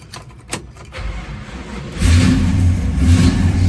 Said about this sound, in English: We're going to start up our 64 Chevelle